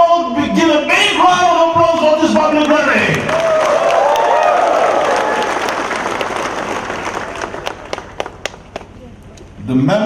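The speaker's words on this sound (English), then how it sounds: "shall we all give a big round of applause for this public rally?" Applause breaks out at a public rally against illegal taxation and harassment, a crowd clapping loudly and densely after a voice over the sound system, then thinning to scattered claps as it dies away.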